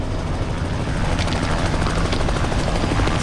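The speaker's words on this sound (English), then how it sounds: "The helicopter, where's it going to land?" Helicopter hovering close by for a winch pickup, a loud, steady rotor thump and turbine roar filling the scene without letup and with no talk over it.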